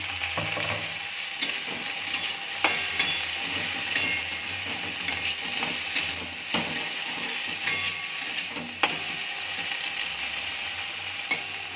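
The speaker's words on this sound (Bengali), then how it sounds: "ভেন্ডি ভাজা করবো পেঁয়াজ দিয়ে।" Okra and onions frying in a pan with salt, turmeric and chilli: a steady close sizzle with intermittent sharp scrapes and taps of stirring throughout, no voices.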